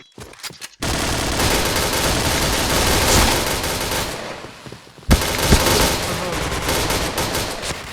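Rapid automatic gunfire from the video game Point Blank rattles loudly and continuously, breaking off briefly before a sharp shot resumes the sustained firing.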